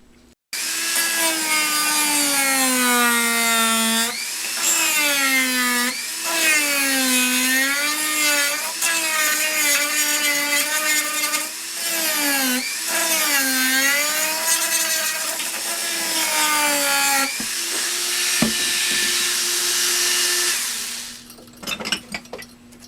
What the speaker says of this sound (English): I can do this with a Dremel tool relatively quickly anyway